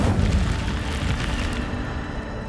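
Incendio fire spell blast in the video game Hogwarts Legacy, a deep rumbling whoosh of flame bursting out loudly and fading over a couple of seconds.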